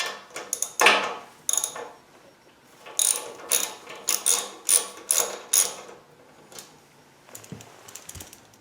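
A 6mm hex socket ratchet clicks in quick bursts while loosening the front fork pinch bolts on a motorcycle, several separate runs of crisp pawl ratcheting up close with short pauses between, no talking.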